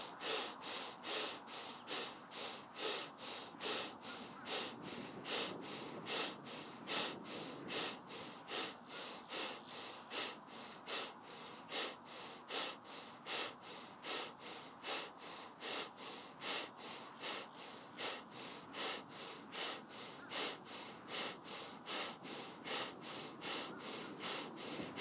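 Rapid pranayama breathwork: quick, forceful nasal breaths pulse in a steady, even rhythm for the whole stretch, close and clear, with no talking.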